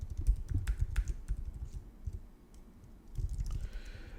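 Clicky typing on a computer keyboard while a Python script is written in a terminal editor, quick uneven bursts of keystrokes close by, slowing to a pause before another flurry.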